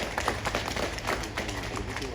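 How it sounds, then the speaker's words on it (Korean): Audience applause at a union rally, a dense, steady wash of clapping from a crowd, with voices mixed in. "지회 집행부 동지들에게 힘찬 박수 한번 쳐드렸으면 좋겠습니다"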